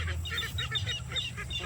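Ducks in a rice paddy honking and quacking in quick repeated bursts, close and fairly loud over a low steady background rumble.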